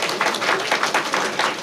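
A church congregation at a family puppet-show service claps together in a short burst of applause, moderately loud with a rhythmic, pulsing texture.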